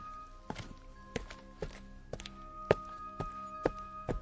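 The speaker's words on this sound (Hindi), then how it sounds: "ऐसा लगा जैसे कि उस शांत बंगले में कोई चल रहा हो" Slow, deliberate footsteps cross a silent bungalow floor, about eight dull thuds spaced roughly half a second apart, close and distinct, with no voices, an eerie horror-story walk.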